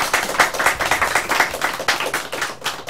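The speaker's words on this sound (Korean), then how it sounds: "박수 한번 주세요." A studio audience claps for an arriving guest on a Korean political talk show, brisk rhythmic clapping from a modest crowd, fairly close and continuous for a few seconds.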